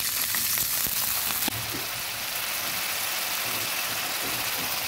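Chopped onion and onion paste fry in a pan, a dense loud hiss that shifts with a sharp burst as water is poured in, then a steady bubbling sizzle continues.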